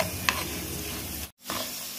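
Chana dal frying in oil with turmeric and chilli powder, stirred in a pan: a continuous close sizzle with a sharp spatula scrape early on and a brief cut midway.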